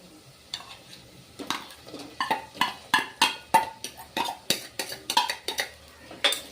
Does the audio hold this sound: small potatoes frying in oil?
yes